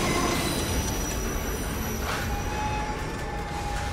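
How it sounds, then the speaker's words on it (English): A runaway train in Assassin's Creed Unity rumbles loudly and continuously, with sharp metallic wheel squeals ringing over a dense, steady roar throughout, no voices. "The train was out of control!"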